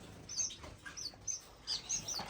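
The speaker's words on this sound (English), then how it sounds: "This Indian silverbill pair here" Indian silverbill finches in an indoor bird room give short, high chirps in scattered bursts, faint and close, with no talking.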